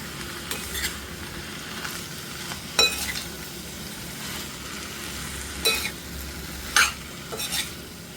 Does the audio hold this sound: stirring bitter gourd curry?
yes